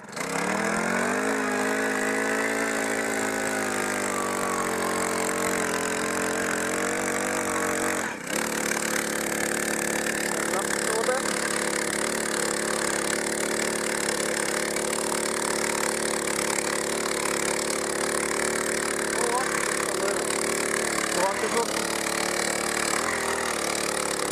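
A small motor runs steadily and loudly for the whole stretch, with a brief dip in pitch partway through before settling back to a constant drone.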